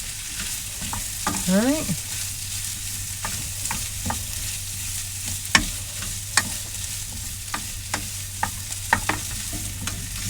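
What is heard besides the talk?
mixing corned beef hash in a pan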